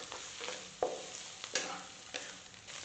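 Sausage, bamboo shoots, diced carrot and dried tofu get tossed in a wok with a spatula. A steady soft sizzle runs under regular scraping strokes, each one a sharp scrape, close up with no voices.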